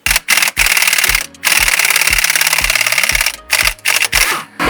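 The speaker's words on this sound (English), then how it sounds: "I got the impact gun out." An impact gun loosening bolts on a Corvette C7 rattles in loud, close bursts, several rapid hammering runs separated by brief pauses as the trigger is released.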